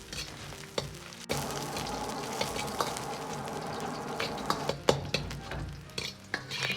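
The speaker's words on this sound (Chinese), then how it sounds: "再下入切好的羊油，保持中小火，把羊油炒出香味" Chopped mutton fat fries over medium-low heat in a wok with a little scallion oil, a constant crackling sizzle broken by repeated scraping and clacking of a spatula stirring against the pan.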